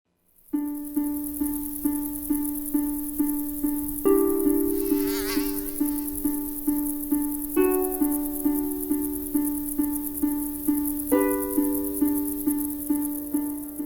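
Aedes aegypti mosquitoes, the dengue-carrying species, hum in a loud, steady, close-up drone that pulses rhythmically and shifts in pitch several times.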